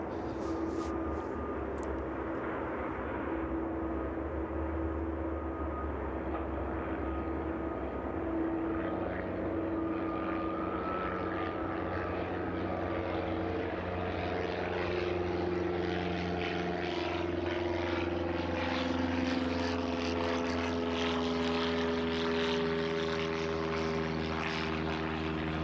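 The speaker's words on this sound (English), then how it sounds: "Piper just making its way out again." Piper propeller aircraft taxiing at East Midlands Airport, a steady droning engine and propeller hum with shifting tonal whine, constant and fairly loud throughout, with no break or voices.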